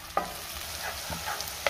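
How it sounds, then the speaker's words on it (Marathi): Onion and tomato sautéing in a pan for a prawn dry fry, a soft low sizzle with a few quick stirring scrapes at the start, middle and end, close and fairly quiet. "आता आपल्याला ह्यामध्ये टोमॅटो घालायचा आहे आणि टोमॅटो सुद्धा आपल्याला मऊ होईपर्यंत शिजवून घ्यायचा आहे।"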